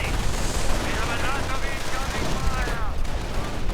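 Video game battle with gunfire and mortar fire: dense, continuous rattling shots and distant booms filling the scene, with a voice speaking over the combat.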